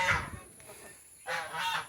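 A male turkey gobbles and honks in two loud bursts separated by a short quiet gap, close by, with faint background hiss.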